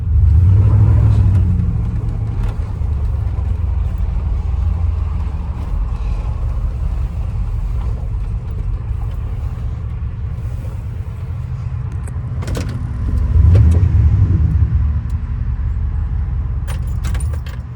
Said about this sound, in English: this is definitely better than that stock quiet exhaust. It gives it a little rumble, and I like it.